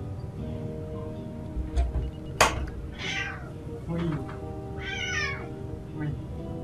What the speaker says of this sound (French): il y a mon chat qui vient de rentrer